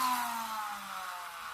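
A small toy motorbike bought at a fair whirs with a thin, steady motor tone that drops slightly in pitch, close and alone for under two seconds.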